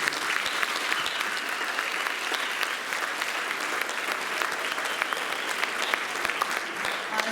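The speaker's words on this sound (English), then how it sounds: "Please stand, give them a round of applause." Audience at a school spring band concert gives a sustained round of applause, dense steady clapping filling the hall at a loud, even level from start to finish.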